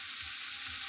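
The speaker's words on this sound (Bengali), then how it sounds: "এখানে আলু ভাজা হচ্ছে" Potatoes fry in a pan with a steady, bright sizzle that stays even and close throughout, with no voices over it.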